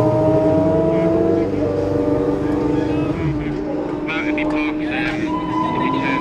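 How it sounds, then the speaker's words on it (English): Kawasaki superbikes racing past at the Classic TT road races, their engines roaring steadily and loudly with a rising and falling pitch as the bikes pass, a commentator talking over them. "Another pair of Kawasakis now"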